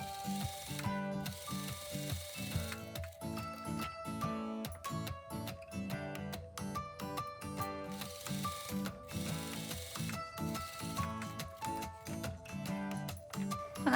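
A sewing machine runs long basting stitches through dress fabric for a gathered smock dress, fast rhythmic mechanical clatter in repeated bursts with short stops, close and steady.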